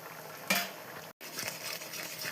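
Lentil dal boiling in a pot, a steady close bubbling with a brief clatter near the start.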